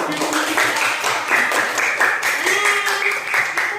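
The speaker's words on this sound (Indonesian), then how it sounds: "Aplaus buat Diva dan Pak Isa" Classroom applause for Diva and Pak Isa, a steady patter of many hands clapping at close range with voices mixed in.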